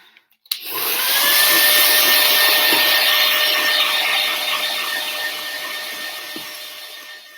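A small blower drying paint starts with a click, then runs as a steady, close whirring hum with a whining motor tone, holding level for several seconds before easing slightly.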